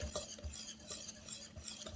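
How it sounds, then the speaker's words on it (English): A whisk stirs yogurt briskly in a bowl, repeated scraping clinks in a steady rhythm, close and moderately quiet, with no talking. "I have a whisk here. I'm just going to whisk it gently."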